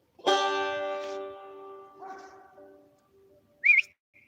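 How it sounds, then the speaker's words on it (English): A female dog barks once with a long, loud harmonic yelp near the mic, followed by a quieter second bark and a brief high whine, in an outdoor setting near a long driveway with a passing truck. "there goes the female. She's barking at something."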